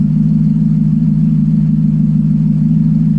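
A 1991 Mercedes 500SL engine, just fitted with new fuel pumps, filter and accumulator, runs with a steady, loud, close droning hum at an even idle, with no voices over it.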